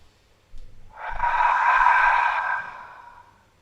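One long, deep breath drawn in through the nose during a vinyasa yoga practice, close and steady, swelling over about two seconds before fading into quiet.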